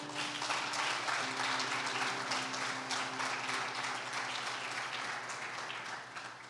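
Church congregation applauding for Jesus during a Portuguese sermon, a steady wash of clapping with a held keyboard tone beneath, fading slightly toward the end.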